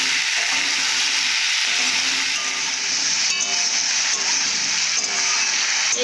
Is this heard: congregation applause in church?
no